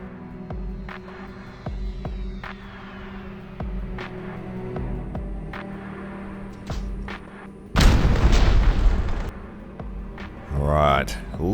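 A 1,000 pound bomb bursts on an enemy base in the Harrier GR.1 flight game, a sudden heavy boom that rumbles for a few seconds over steady jet engine hum, followed by a rising whine near the end.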